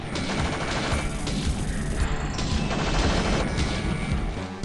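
Sustained loud automatic gunfire in System Shock on the security level, continuous dense rattling shots filling the whole stretch with no pause.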